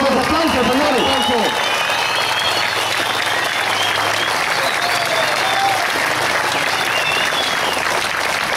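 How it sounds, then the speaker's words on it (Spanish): Sustained crowd applause for municipal presidential candidate Eugenio Castellanos Jiménez, loud and dense with a brief voice at the start before the clapping fills the rest evenly. "¡Demos un aplauso, señores!"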